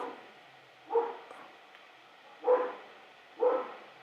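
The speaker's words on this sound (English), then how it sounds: "And the dogs are not happy." Dogs bark outdoors at night with coyotes nearby, three separate mid-distance barks spaced a second or two apart over a quiet background.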